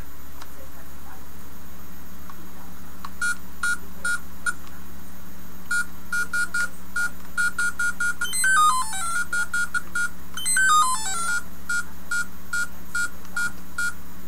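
Electronic beeps from a handheld game, short rhythmic bleeps in bursts with a couple of fast rising and falling tone runs, fairly faint over a low hum.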